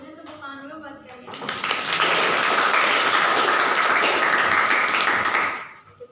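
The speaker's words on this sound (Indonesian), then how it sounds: "Sebelumnya tepuk tangan dulu buat kalian." Audience applause at a training session for new members, starting faintly and swelling into a steady wash of many clapping hands that holds for several seconds before tapering off, with a moderator's voice heard at the start.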